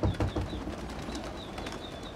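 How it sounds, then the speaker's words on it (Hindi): Pigeons released from their loft coo low and steadily close by, with soft flapping and bumps at the start and a faint high whistle above. "कबूतर खुल गए।"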